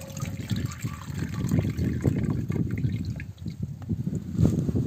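Water poured into a small packet of Rasna drink mix at home in a village kitchen, a continuous close trickling and splashing stream with uneven surges, no talking.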